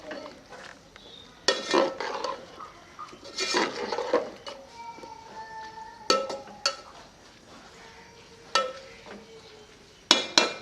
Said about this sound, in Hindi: इन सारी चीज़ों को मिक्स कर लेंगे।